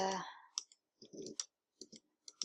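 Crisp, close computer clicks and key taps while text is edited letter by letter in Design Space. About four separate clicks are spread over a couple of seconds, just after a brief voice at the start.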